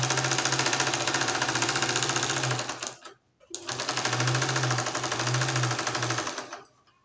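Sewing machine stitching the slit of a pencil skirt, running in steady continuous bursts with a brief pause partway through before resuming, close and clear with no talking.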